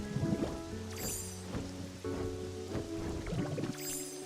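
Steady rain pattering on a beach by the water in the game Pokémon Pokopia, a continuous wash of drops with soft rhythmic game music and a few brighter chimes layered over it.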